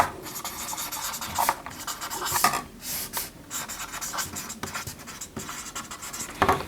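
Handwriting on paper up close, a steady scratchy rubbing of a pen moving in short strokes with brief pauses between words, fairly clear and alone.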